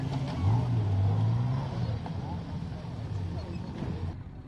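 4x4 vehicle on an off-road obstacle course at a national challenge: a low, steady engine drone while it crawls the course, moderately distant, with a commentator speaking throughout.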